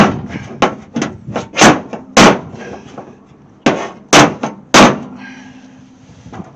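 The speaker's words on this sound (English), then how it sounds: "trying to slide the hammer" A slide hammer strikes the metal body of a 1968 AMX under restoration, producing about seven loud, ringing metallic clangs in an irregular rhythm, with a pause midway between bursts of blows.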